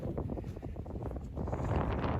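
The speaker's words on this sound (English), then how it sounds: "man, it's windy today" Steady wind buffeting a microphone across a snowy open field beside an electric fence line in winter, a constant loud rushing roar that swells slightly toward the end, no voices.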